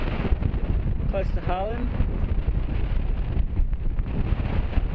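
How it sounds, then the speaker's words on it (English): Strong wind roars steadily across the microphone during a paragliding flight near Kingaroy, a constant dense rush with a voice talking briefly over it. "Plenty of wind"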